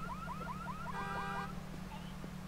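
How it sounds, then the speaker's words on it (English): An alarm tripped inside the video game Watch Dogs wails as a repeated rising electronic tone, then gives way to a steady buzzing beep over a constant low game hum, fairly faint. "Tripping the alarm so the security guard turns his back."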